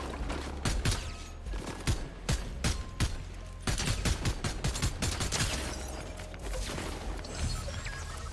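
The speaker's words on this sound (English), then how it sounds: "that was a sniper shot" Gunfire in the Fortnite video game, including a sniper shot: a rapid string of sharp, loud cracks in irregular bursts over a low rumble, with no talk.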